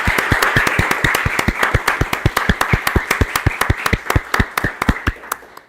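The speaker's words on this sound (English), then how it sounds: "let's give a round of applause" Audience at an academic symposium on evolution clapping, mostly one or two close, sharp claps in a steady rhythm with a few others in the background, thinning out and fading over the last second.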